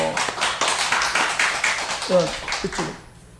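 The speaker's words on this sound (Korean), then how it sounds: "박수 한번 쳐줘요" Church congregation clapping in a sanctuary, a burst of individual claps at moderate loudness lasting about three seconds, with a few spoken words mixed in near the end before it dies away.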